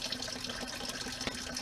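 Fluid draining in a steady trickling, splashing stream from a Peterbilt 352 cabover truck during a restoration job, continuous and moderately close with no talk.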